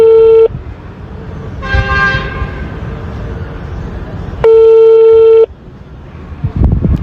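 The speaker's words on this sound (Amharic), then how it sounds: "ስራ ላይ ይሆናል ምናልባት ለዛ ነው ስልክ ያላነሳ።" A phone call goes unanswered, with loud electronic ringback tones, one long tone at the start and another a few seconds later, separated by a muffled, noisy pause.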